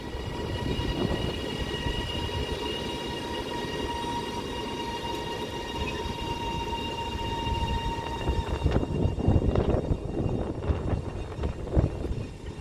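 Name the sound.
passenger train arriving at station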